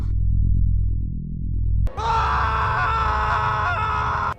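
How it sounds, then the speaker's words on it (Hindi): An animated Hindi horror story has a man screaming as he rushes out: low droning music gives way after a sharp hit to a loud, sustained distorted cry held for over two seconds. "शिवा उसे देखकर चिल्लाता हुआ बाहर आया।"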